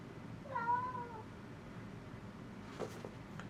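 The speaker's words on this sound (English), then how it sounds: "Just ignore my cat if you heard that." A cat lets out a single drawn-out meow, moderately close, then the room falls back to a low hum with a faint rustle.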